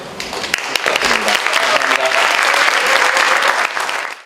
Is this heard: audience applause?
yes